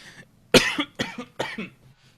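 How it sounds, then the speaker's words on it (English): A person coughs three times close by, first a loud sharp burst, then two slightly weaker ones spaced about half a second apart, with quiet between them. "An inspirational cough"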